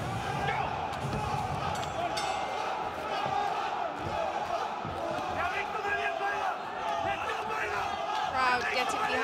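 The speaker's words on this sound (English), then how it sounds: "Crowd getting behind." A crowd at a live fight event roars and cheers continuously in a big, dense wash of noise, with a commentator's voice running over it.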